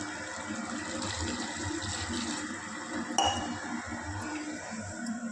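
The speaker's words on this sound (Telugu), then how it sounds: "ఈ ప్రాసెస్లో మనం వాటర్ వేసుకుందాం" Water being poured into tamarind pulusu cooking in a pot, a steady low watery rush near the mic with a single bright clink of metal or glass midway, no talk.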